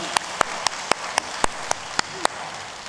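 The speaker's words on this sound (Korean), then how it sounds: "우리 함께 영광의 박수 올려드리겠습니다" Church congregation applause during a Sunday service: a soft wash of many hands with a few distinct, evenly spaced louder claps standing out, and no voices over it.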